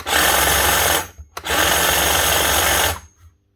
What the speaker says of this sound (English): It's only a hedge trimmer.